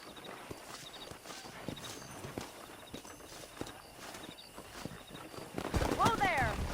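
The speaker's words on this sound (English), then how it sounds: "Let's see if we can't wrangle some horses." Horse hooves clip-clop in a steady walking rhythm in the Western video game Red Dead Redemption, fairly close and even, before a burst of louder movement and a rising whinny-like sound near the end.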